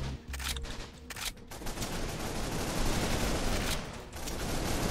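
Sniper and other gunfire in the Roblox-style shooter game Arsenal, a dense crackling fusillade of rapid shots running nearly the whole time, loud and continuous with brief gaps.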